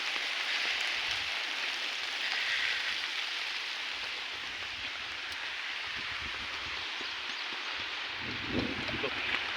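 Steady rain hisses across a surface on a farm field by a hut, a constant wash of drops with a few louder patters near the end.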